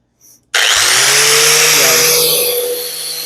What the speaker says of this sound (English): I'm gonna use this flapper. I'm gonna get all this paint off because you got to get down to bare metal